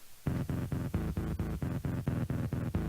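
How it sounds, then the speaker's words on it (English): A deep synth bass pulses in quick, even repeated notes, buzzy and throbbing, played alone at a moderate level. "which is this cool synth bass"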